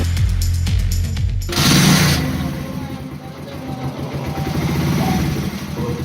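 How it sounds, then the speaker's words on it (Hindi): A bike engine turns over and then settles into a steady, close mid-pitched idle after a safety switch is touched, running alone for several seconds. "ये देखें आपकी बाइक स्टार्ट है"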